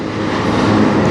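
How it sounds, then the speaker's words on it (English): A CN freight train on the Strathroy Subdivision in Sarnia, Ontario, creeps slowly along the track with a loud, close, steady rumble and low grinding, with no clear wheel clatter. "That was probably one of the first times I've ever seen a train creep up on track 1"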